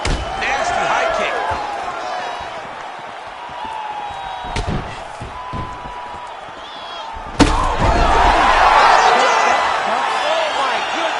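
In the UFC 5 video game, a heavyweight's high kick lands as a sharp, loud slam over the crowd noise of the arena. Afterward the crowd swells, and a commentator keeps talking throughout.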